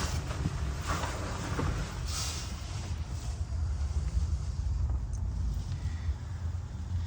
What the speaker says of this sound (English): I'm facing the wind, and it's not bad.